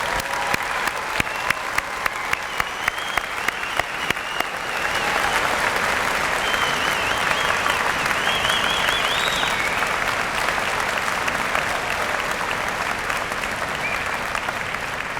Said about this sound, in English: I think we owe a big round of applause to our graduating class of 2013.